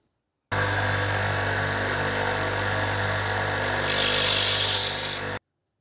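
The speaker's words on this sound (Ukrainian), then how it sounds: "Ось точу, точу, ну ще залишилось ось тут трішечки." Power tool sharpening the knives of a Bernina 700D overlocker, a continuous loud grinding whine that holds for about five seconds and grows harsher and brighter near the end, no voice.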